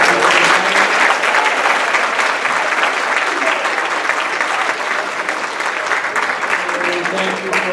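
An audience at a high school senior athletic awards ceremony gives the athletes a sustained round of loud applause, steady clapping filling the hall throughout.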